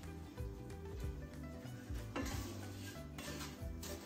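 A spoon stirs and scrapes food roasting in a pan, giving soft repeated scraping and clinking under a low, faint sizzle, with background music playing throughout.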